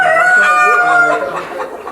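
Tiger-breed chickens on a large poultry farm, birds said to reach 10 kg each, crow and cluck loudly and close by, a rooster's harmonic crow standing out over a busy chorus of hens for the whole two seconds.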